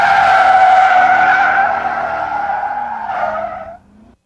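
A Chevrolet C5 Corvette with an LS1 engine holding a 1G cornering turn, its tires squealing loudly in a sustained high wail that fades out after about four seconds.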